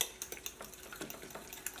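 A spoon stirring a wheat flour and egg mixture in a bowl, quick light clinks and soft scrapes repeating in an uneven rhythm, close and quiet with no voices.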